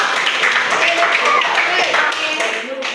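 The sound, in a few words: hand clapping after a correct answer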